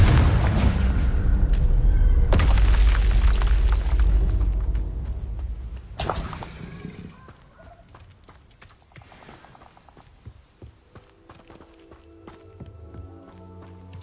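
A Confringo blasting spell explodes in the Hogwarts Legacy video game, a loud booming burst followed by a second sharp blast, then a fading tail with quieter game effects and clatter.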